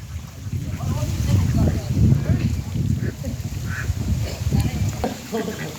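Ducks splash and quack in a village pond as they chase and eat fish, a busy, close mix of wing-flapping, water churning and calls, with people talking over it throughout.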